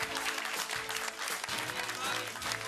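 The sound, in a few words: applause at a chapter meeting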